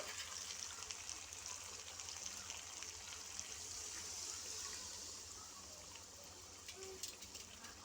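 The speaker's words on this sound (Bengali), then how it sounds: "এখন আমি এর মধ্যে দিয়ে দেব সামান্য পরিমাণ জল" Water is poured into a pan of chicken kosha curry on the stove, a steady, moderately loud splashing gush that runs the whole time with no voices.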